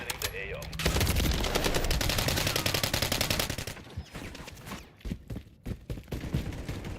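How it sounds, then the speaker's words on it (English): Rapid automatic gunfire from the XDefiant multiplayer video game rattles in dense, sustained bursts for several seconds, then breaks into shorter scattered shots and pops near the end. "Taking fire."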